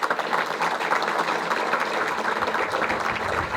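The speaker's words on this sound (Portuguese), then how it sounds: "peço-lhe também uma grande salva de palmas para ele" Crowd at a Portuguese municipal election rally applauding a guest, a dense, even wash of clapping held throughout at moderate loudness, with no clear voices over it.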